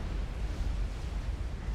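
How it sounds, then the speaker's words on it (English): A distant explosion in the real-time strategy game Supreme Commander: a steady, heavy low rumble that holds through the whole stretch without a sharp burst. "And there goes an explosion in the northeast."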